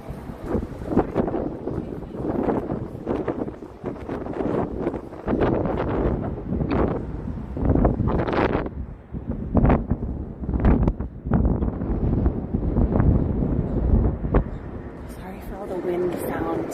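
Gusting wind buffets a microphone outdoors in Washington DC during cherry blossom season, a steady rumbling roar with surges throughout, mixed with nearby voices talking.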